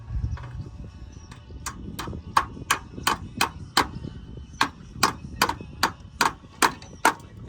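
A hammer strikes repeatedly while zinc flashing is fitted on a roof under renovation, sharp loud close blows in a fairly regular rhythm, about a dozen and a half hits over low background noise.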